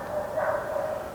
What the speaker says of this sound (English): we got some pretty loud barking dogs